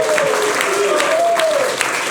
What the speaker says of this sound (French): Avec un public merveilleux, on peut encore l'applaudir d'ailleurs.